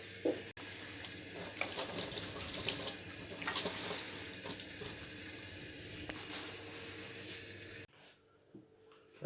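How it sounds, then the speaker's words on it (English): Steady rush of warm tap water running and splashing into a sink as hands are washed for several seconds, then it cuts off abruptly, leaving a quieter room. "we need to wash our hands for 20 seconds with warm soapy water"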